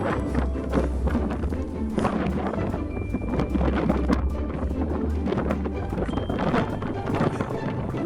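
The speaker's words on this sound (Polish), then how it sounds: "Wieje strasznie." Strong wind buffets the summit of Mont Blanc, producing loud, gusty roaring and rumbling against the microphone, with brief bits of talk and movement mixed in.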